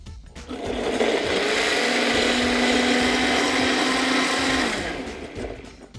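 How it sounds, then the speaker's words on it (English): A blender whirs steadily at high speed for several seconds with heavy cream being added, loud and close, then spins down and stops. "So put in your blender, and we're gonna slowly add in some heavy cream."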